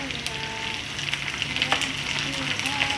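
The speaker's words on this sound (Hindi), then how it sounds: "मैं इसमें डालूँगी कड़ी पत्ता" Curry leaves hit hot oil with golden fried onions, giving a loud, continuous crackling sizzle with sharp pops throughout.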